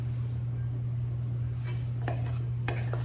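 A spoon stirs a praline mixture in a pot, making a few soft scrapes and light clinks over a constant low hum.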